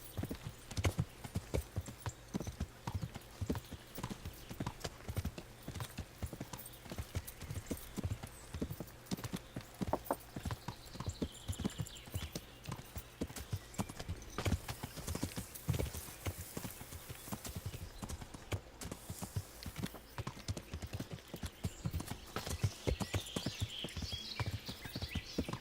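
Horse hooves clip-clop steadily in the medieval video game Kingdom Come: Deliverance, a continuous close rhythmic trot with a faint whinny, no voices over it.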